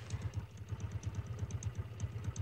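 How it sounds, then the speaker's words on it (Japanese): Motorbike engine idling at a low, even putter, a steady rhythmic thump repeating about eight times a second, fairly quiet and heard alone. "オートバイ。"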